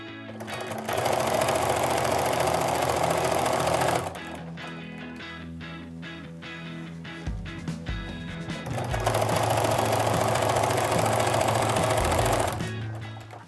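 A sewing machine runs in two steady, rapid bursts as it stitches fabric strips for a jelly roll rug, separated by a quieter stretch with light handling taps and no talking.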